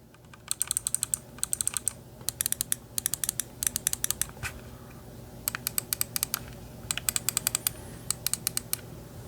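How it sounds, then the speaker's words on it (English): Bursts of sharp, rapid clicks from a SteelSeries Aerox 3 Wireless 2022 Edition gaming mouse's buttons, in quick clusters, crisp and close, separated by brief pauses against a low background hum. "nice and clicky. I really like the tactile clickiness of this."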